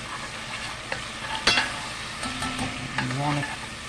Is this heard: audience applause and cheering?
no